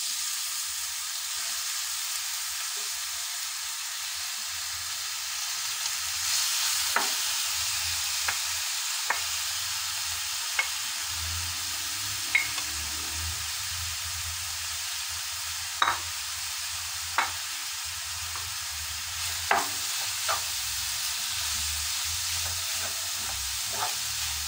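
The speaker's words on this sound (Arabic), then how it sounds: "ونخلطوا البقوله ديالنا مزيان مع هاد التوابل، ونخليوها تشحر شويه مع التوابل اللي حطينا" Mallow greens fry with spices in a cooking pot, giving a soft continuous hiss and sizzle, with scattered sharp scrapes and taps of a spoon stirring at irregular intervals, close and moderately quiet.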